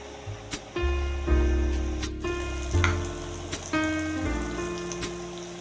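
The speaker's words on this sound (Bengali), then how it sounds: "দিয়ে দেবো একটু কাশ্মীরি লঙ্কার গুঁড়ো ভালো করে মশলাটা কষে নেব" Spices and Kashmiri chilli powder sauté in a pan with a steady crackling sizzle, interrupted by a few sharp stirring clinks, close by, while a faint tonal hum runs underneath.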